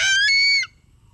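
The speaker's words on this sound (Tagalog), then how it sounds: "Manok yun." A single short, nasal squawking call from a gamecock, close and clear, cut off abruptly with near silence after.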